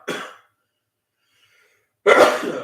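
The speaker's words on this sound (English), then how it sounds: "Coughing here tonight on a Friday." Two separate harsh coughs, close and loud, with a quiet pause of about a second and a half between them.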